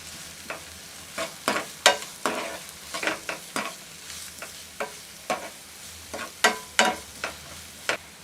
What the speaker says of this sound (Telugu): వీటిని ఒకసారి ఇలా ఫ్రై చేసుకోండి.